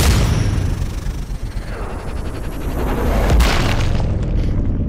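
A heavy explosion in the shooter game Sniper Ghost Warrior Contracts 2 blasts out loud and close, with a deep, rumbling boom that rolls on and fades slowly.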